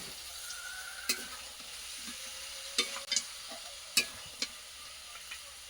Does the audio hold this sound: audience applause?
no